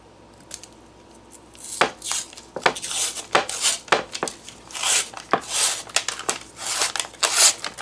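Cardboard cans of Pillsbury cinnamon rolls being opened, starting quiet and then giving way to a run of crisp tearing, crinkling and knocking handling sounds at close range.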